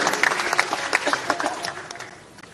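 Audience applause at a ceremony for national highway projects, dense continuous clapping from a large crowd that swells, then gradually thins and fades toward the end.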